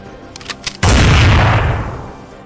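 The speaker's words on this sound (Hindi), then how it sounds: "तभी दूसरे शिकारी ने गोली चला दी।" A hunter's gun fires one loud, booming shot after a few faint clicks, its blast rolling into a long, decaying rumble.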